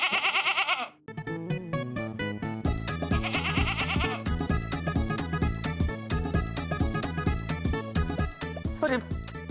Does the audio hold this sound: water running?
no